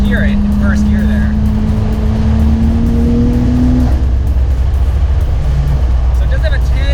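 Nissan Skyline GT-R with turned-up boost accelerating hard in first gear, its engine droning loud and close from inside the car, with a rising tone and a slightly rough, stumbling breakup under the roar.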